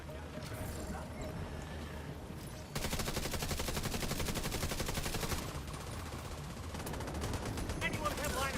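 A deployed turret and rapid gunfire rattle in The Division 2, with dense bursts of automatic shots running continuously and growing louder partway through, while a voice talks over the action.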